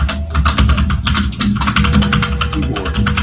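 Fast, loud typing on a computer keyboard, with dense clattering keystrokes heard close up and continuing throughout without pause, no voices.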